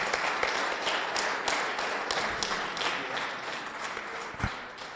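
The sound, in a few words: applause for the bocce match officials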